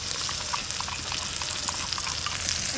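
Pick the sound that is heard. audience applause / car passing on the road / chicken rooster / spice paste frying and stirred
spice paste frying and stirred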